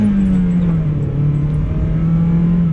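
A 1999 Mazda Miata NB drives off on the road, its engine a steady droning hum that dips slightly and holds, heard close and loud from the car.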